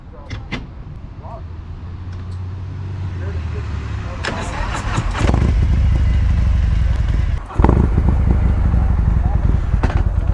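2020 Harley-Davidson CVO Street Glide 117 and Road Glide Special 128 motorcycles set off on a ride in Atlantic Highlands, a deep engine rumble building steadily with a few sharp clacks, while people talk over it.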